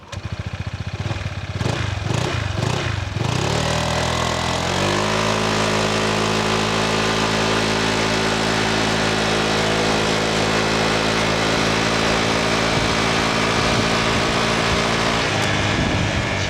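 Honda ADV160 scooter, a 133 kg machine, with its engine blipped in a few quick throttle bursts, then settling into a steady, even running drone that fills the rest of the stretch without speech.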